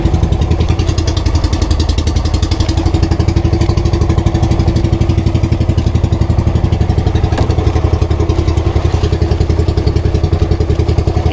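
A boat engine at sea revved while misfiring, giving a loud, close, continuous rapid chugging pulse with uneven clattering thumps throughout.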